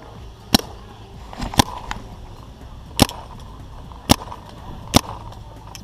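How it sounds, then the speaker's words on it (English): A Planet Eclipse Ego LV1 paintball marker fires five sharp, loud shots spaced about a second apart during test firing, each a crisp crack over low background rumble. "we're doing Ego LV1 test firing and chronoing today"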